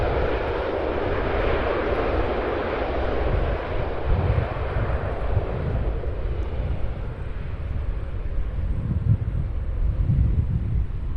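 A jet airliner at Cincinnati's CVG airport rumbles as a steady, broad roar with wind buffeting the microphone, holding at an even level throughout with no voices.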